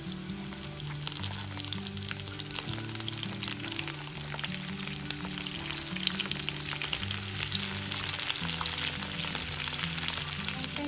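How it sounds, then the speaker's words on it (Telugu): Eggplant pieces frying with sliced onion and garlic in a pan give a steady, close crackling sizzle with stirring scrapes throughout, no voices. "ఉల్లిపాయ కొద్దిగా వేగాక ఇప్పుడు వంకాయ ముక్కలను వేసుకోవాలి."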